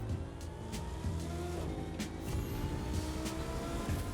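A car in a driving game runs with a steady engine drone and a rising, shifting pitch as it accelerates, loud and continuous, with no talking.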